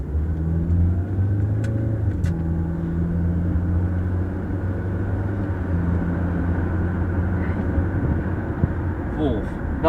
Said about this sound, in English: Gearbox was whirring a bit in first, quite nice charismatic sound there, quite old school.